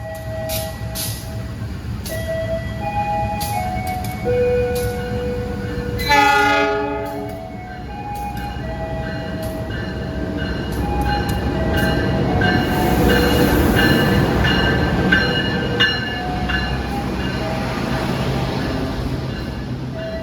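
An Indonesian commuter passenger train rumbles steadily along the tracks between Cicalengka and Purwakarta, with tonal horn-like notes and wheel squeals rising over the continuous rolling noise.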